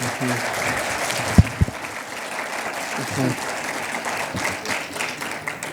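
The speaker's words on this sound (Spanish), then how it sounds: "pedimos un aplauso, por favor" Audience applause at a book presentation for the Mafalda 60th anniversary at the FIL Guadalajara 2024 book fair, a steady wash of clapping from a seated crowd lasting throughout, with a couple of sharp close knocks early on.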